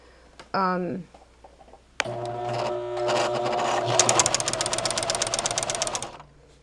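A Brother LX3014 sewing machine running a twin needle through four layers of quilting muslin, a steady fast mechanical rattle of rapid stitches for several seconds after brief speech, then stopping.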